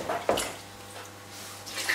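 Water poured into a pot for couscous, a faint splashing and trickle with a brief louder splash near the start, close by and without talk.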